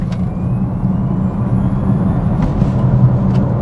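A car in GT performance mode accelerating hard, its engine a steady, loud, low rumble that holds throughout with no talking.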